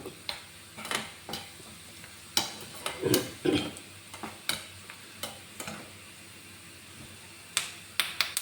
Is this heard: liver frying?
yes